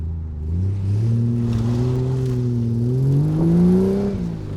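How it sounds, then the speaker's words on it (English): A straight-six car engine revs steadily, its smooth harmonic note rising and falling, close and loud with no voices over it. "The straight six engine produces a really beautiful note and noise."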